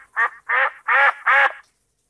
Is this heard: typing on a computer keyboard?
no